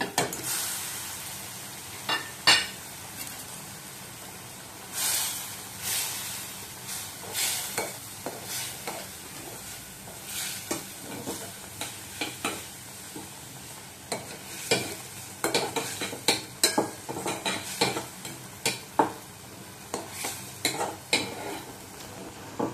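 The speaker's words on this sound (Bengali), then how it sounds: "আমার মশলা কষে এসেছে, এখন আমি পাবদা মাছগুলো দিয়ে দিব এর মধ্যে।" Fried pabda fish goes into sizzling cooked-down masala in a pan, with a steady sizzle under repeated scraping and clinking of a metal spatula against the pan as the fish is stirred, strokes coming in irregular bursts.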